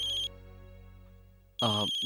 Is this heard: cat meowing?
no